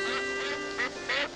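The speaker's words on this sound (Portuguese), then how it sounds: "patos são graciosos" Ducks quack in a quiet park, four clear nasal calls in a loose rhythm, fairly close and alone with no talking.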